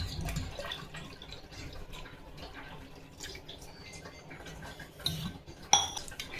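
A spoon stirs sugar, curd and water in a glass, giving faint clinks and small liquid swirls, with a few sharper taps of metal on glass near the end, close and quiet.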